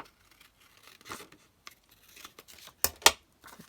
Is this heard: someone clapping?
no